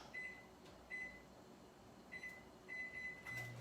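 A microwave oven runs on high heating a béchamel sauce mixture for a quick cauliflower gratin, a faint steady hum with a series of short beeps spaced through it.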